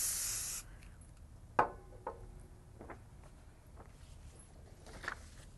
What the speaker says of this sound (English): grab my can of Pro Spray. We're going to lightly mist